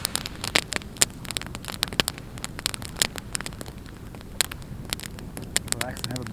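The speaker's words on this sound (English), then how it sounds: "Campfire." Dry wood crackling in a campfire on a calm evening, with frequent sharp pops and snaps scattered irregularly over a steady low rumble, fairly close.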